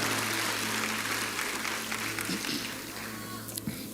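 A church congregation applauds during a service, with a broad wash of clapping over a sustained low musical tone, fading somewhat toward the end.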